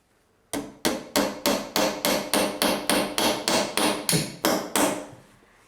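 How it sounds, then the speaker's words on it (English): A hammer drives nails through drywall into wooden studs, thirteen loud, evenly spaced blows in a steady rhythm, each sharp strike ringing briefly, heard close and alone. "I'm going to nail a couple of nails into the studs so that the drywall has something to rest on while I'm nailing it in place"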